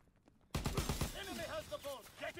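Gunfire erupts in a World War II shooter game, a sudden loud burst of rapid shots followed by scattered further reports and battlefield noise.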